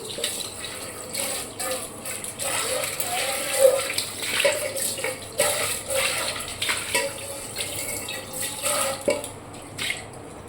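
Tap water runs and splashes over a utensil being rinsed of sticky jackfruit sap, a continuous fluctuating wash with small knocks and spatters throughout.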